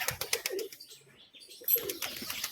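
Bazi display pigeons clap and flap their wings close by in a flight display, a quick series of sharp papery bursts, then a short lull before another flurry of clapping and wingbeats.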